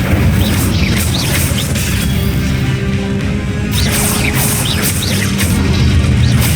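A fiery Incendio spell is cast in the Hogwarts Legacy video game: a loud, continuous roar of flame and crackling bursts that stays dense and forceful throughout, with no talking.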